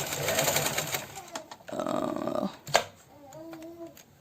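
A home sewing machine back-stitching fabric to seal elastic while sewing shorts, short bursts of mechanical whirring broken by pauses and handling noises, close, with a voice speaking briefly.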